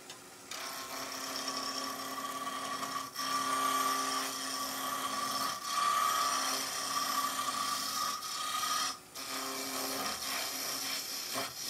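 A spindle gouge roughs down a wooden piece for a Christmas tree bird box on a lathe, giving a steady, continuous scraping hiss with a few brief breaks.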